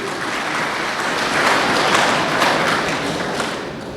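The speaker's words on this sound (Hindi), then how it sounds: "अरे ताली तो बजाइए भाई साहब के लिए" An audience claps together at a motivational talk for police battalion members, a dense burst of applause that swells midway and then tapers off over a few seconds, with no voices over it.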